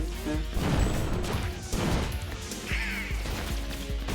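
Kingdom Hearts 1 Thunder spell strikes with several heavy crashing impacts and rumbling bursts, loud and close, followed by a short bright shimmering effect, with no talk.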